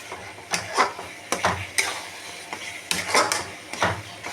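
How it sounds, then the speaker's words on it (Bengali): Spice mix being stirred into raw mango pickle in a kadai: a spoon scrapes and clatters against the metal pan in irregular strokes, close and fairly loud, with a faint sizzle underneath. "মশলাটা আমি মিশিয়ে দিই"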